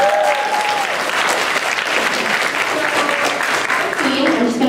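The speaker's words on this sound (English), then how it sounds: "so give him a round of applause" Enthusiastic crowd applause at a Champa youth congress, loud and sustained for several seconds, with cheering and voices rising through the clapping.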